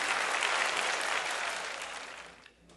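Audience applause at an All India Mushaira poetry gathering, a dense burst of many hands clapping that stays loud at first, then gradually thins and fades out toward the end, with no speech over it.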